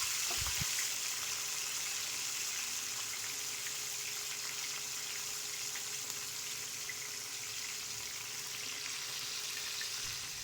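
Leaf-wrapped pomfret fish frying in oil in a pan, giving a steady close hiss and sizzle that runs evenly throughout with no talking.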